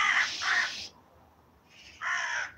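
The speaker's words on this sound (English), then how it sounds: "Crow bird just going there." A crow caws outdoors in two separate bursts of loud, harsh calls with a quiet gap between them. No other sounds compete with the calls.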